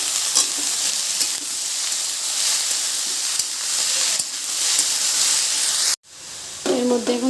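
Taro fries with dried fish in a pan, giving a loud, continuous hissing sizzle that cuts out briefly, then returns with a faint voice or tonal sound near the end.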